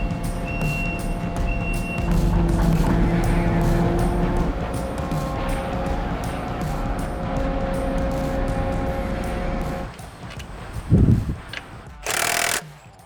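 Pneumatic impact wrench working on the wheel nuts of a telehandler fitted with airless tires, a sustained loud mechanical rattle and whir with a compressor-like hum, ending in a couple of short sharp bursts near the close.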